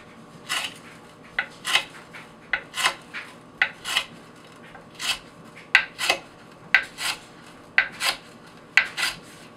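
A Spyderco Endura FFG VG-10 knife slices through rope in a steady series of about fifteen crisp, rasping strokes, each a short sharp cut spaced roughly half a second apart, close and clear with no talking.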